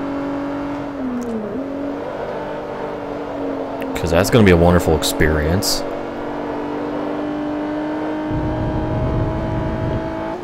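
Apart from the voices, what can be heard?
Renault Sport Clio racing engine in video game Forza Motorsport 3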